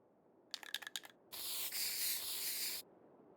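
Spray painting in the video game The Long Dark: a few quick rattling shakes of a can, then a steady hiss of spray lasting about a second and a half, clean and alone against near silence.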